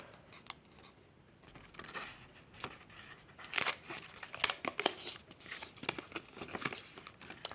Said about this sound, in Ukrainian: І сьогодні ми будемо розпаковувати ось цей рожевий пакетик.